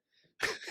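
A single short sneeze bursts out close by after a faint intake of breath, sharp and brief, with nothing else around it.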